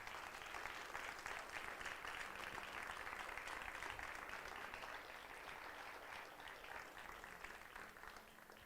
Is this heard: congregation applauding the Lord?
yes